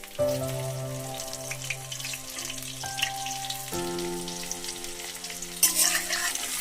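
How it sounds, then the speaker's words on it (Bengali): Boiled garlic cloves frying with spices in a pan for pickle, a steady sizzle and stirring beneath sustained tonal background music. "বেশ সুন্দর করে ভেজে নেব রসুনগুলো মশলার সঙ্গে"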